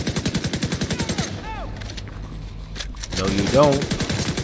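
Rapid automatic gunfire in The Division 2, loud bursts of evenly spaced shots that pause briefly and then resume, with a voice speaking in the middle.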